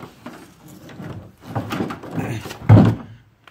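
A Whirlpool side-by-side refrigerator door is handled and flipped over, producing shuffling and rubbing noises that build to a heavy thunk near the end, close by.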